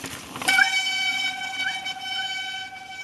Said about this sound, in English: That is the sound of the wild mountain biker with squeaky brakes.